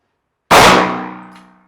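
A bullet strikes a steel target during live pistol fire, giving one sharp, loud metallic clang that rings out and fades over about a second, close by with no talking.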